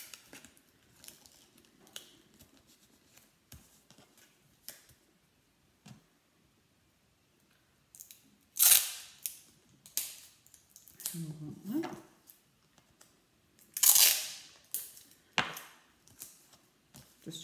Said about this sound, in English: Just using sellotape.